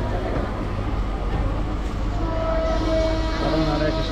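A local train bound for Katwa rolls steadily with a continuous loud rumble and rattle of the carriages, with faint tonal squeals rising near the end.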